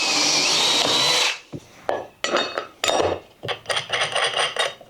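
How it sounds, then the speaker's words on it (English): A power drill drives screws through a yellow tongue flooring sheet into a wall. A steady, close whir is followed by a series of short, stop-start drill bursts with light clatter between them. "I'm going to screw a sheet of yellow tongue onto this wall"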